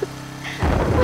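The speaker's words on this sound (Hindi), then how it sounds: "अरे बारिश शुरू हो गई।" Rain begins falling in a Hindi-dubbed South Indian action movie: near silence gives way midway to a sudden, steady broadband hiss of rainfall that continues to the end.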